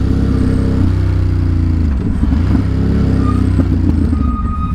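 Motorcycle engine idling and revving loud and close in New York City, a continuous throaty rumble with small surges and no talk.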